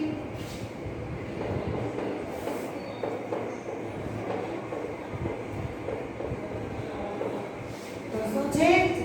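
A train rumbles steadily along the rails with a continuous clattering roar, faint voices mixed in underneath.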